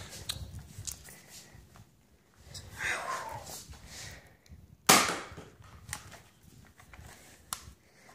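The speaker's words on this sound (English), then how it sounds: "time to shoot the 5-round gun" A Nerf 5-round blaster fires once with a sharp, sudden snap partway through, amid quiet handling noises and soft breathing.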